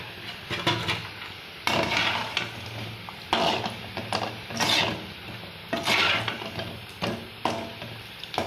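Spinach bonda fritters, made with lots of greens and a little gram flour, fry in hot oil in a pan, giving a steady sizzle broken by repeated stirring and scraping bursts, close and moderately loud, with no talk.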